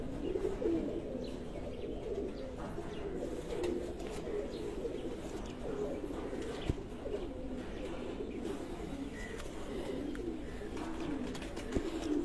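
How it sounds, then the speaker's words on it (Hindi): Soft, low pigeon cooing repeats throughout over a steady background, several birds murmuring at close range. "ये जितने कबूतर आपको दिखाए गए"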